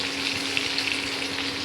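Oil sizzles steadily in a pan as food fries in a home kitchen during birthday meal preparation, a close, even crackle with no talking.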